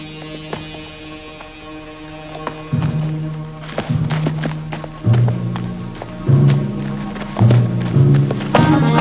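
Hooves clip-clop in an uneven rhythm, with clustered thuds and taps repeating close by over a low background hum.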